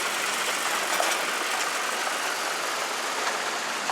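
A tractor at a peanut mill in Boston, Georgia runs steadily during harvest, giving a broad, continuous engine rumble with a faint knocking texture, heard at a moderate distance for a few seconds with no talk.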